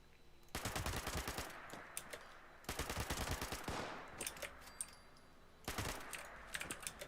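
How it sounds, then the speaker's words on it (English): Rapid bursts of automatic gunfire in a permadeath video game, three loud close volleys of quick clattering shots with quieter gaps between them. "I should just shoot him once and let him burn"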